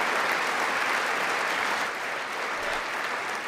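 Dense, steady applause from a large audience at the State of the Union address, a continuous roar of clapping that eases slightly after a couple of seconds and carries on without any speech.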